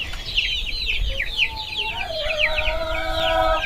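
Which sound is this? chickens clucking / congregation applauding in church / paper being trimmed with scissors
chickens clucking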